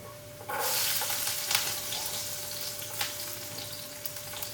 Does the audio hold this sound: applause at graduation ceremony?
no